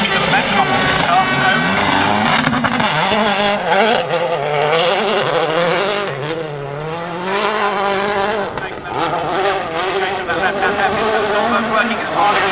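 A rally car pushing hard on a Wales Rally GB stage after a hairpin, its engine note rising and falling loudly and continuously through gear changes, with a commentator talking over it.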